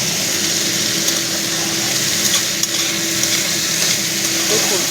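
Minced meat sautéing in mustard oil in a home kitchen pan, a steady, dense sizzle with faint stirring scrapes, continuous and close.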